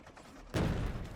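A cannon firing shells in Factorio, one sudden deep blast after a quiet lead-in, with a rumbling tail that fades gradually.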